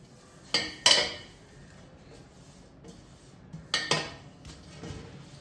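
Oil is spread over a metal parat, with two pairs of sharp metallic clanks and clinks of metal against metal separated by quiet, faint rubbing.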